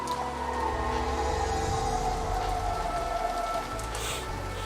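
Rain falling steadily in Umineko: When They Cry, a constant patter of drops on surfaces mixed with low tones and a faint sustained musical drone beneath.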